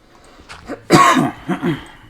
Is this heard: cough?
yes